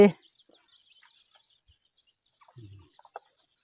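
A sharp squawk from a young laying hen opens, then quiet scratchy sounds and a few soft clucks from young laying hens close by.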